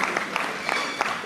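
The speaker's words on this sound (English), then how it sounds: "we just want to congratulate them by giving them a hand clap" A meeting audience of a credit union annual general meeting claps for newly elected board members, a short burst of scattered, moderately close hand claps with uneven rhythm.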